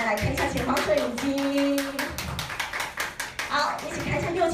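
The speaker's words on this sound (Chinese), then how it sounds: "我们请说，请掌声。" A crowd applauds at a handover ceremony for a Taiwan Railway Tze-Chiang train painted in Tobu Railway Nikko Spacia gold livery, a burst of rapid clapping that swells midway while a voice speaks over it.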